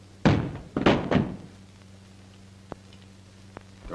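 A gun drops onto a wooden floor during a tense western standoff, landing as a few heavy thunks close together, with faint taps afterward over a steady low hum.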